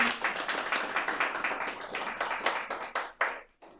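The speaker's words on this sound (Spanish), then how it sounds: "Dense un aplauso, por favor." A church congregation breaks into applause, many hands clapping in a dense, lively burst that holds steady and then thins out into a few last claps near the end.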